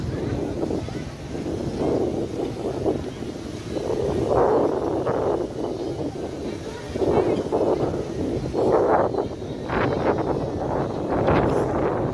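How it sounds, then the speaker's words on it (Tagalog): Strong wind buffets the microphone in steady gusts on the Batangas coast, a low roaring rumble that swells and eases throughout, with faint surf-like wash beneath. "Lakas ng hangin."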